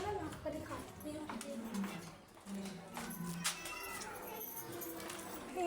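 A kitten sits in a street and gives faint, thin meows amid quiet outdoor background noise, with people talking nearby.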